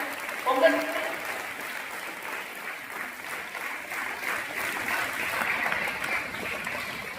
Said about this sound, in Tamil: ஒரு நல்ல கைத்தட்டி கொடுக்கலாம்